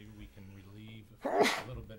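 A single loud sneeze bursts out during a school committee meeting, rising sharply after a stretch of steady conversation and fading as the talk resumes.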